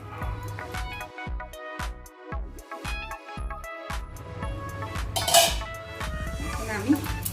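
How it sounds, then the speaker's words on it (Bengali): Bottle gourd and prawn curry (lau chingri) scraped and poured from a pan into a serving dish, with a run of regular metal-on-metal clinks and scrapes of a spoon against cookware, followed by looser clatter of dishes, close and fairly loud. "এখন আমি ঢেলে নিচ্ছি আমার লাউ চিংড়ি।"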